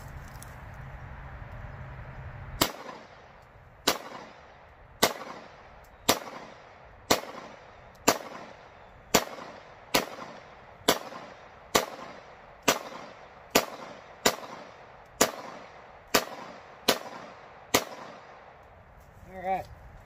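An FN FNS-9 pistol fires at a shooting range, about sixteen sharp, loud reports spaced evenly roughly a second apart, each with a short ringing tail, after a brief stretch of low background hum.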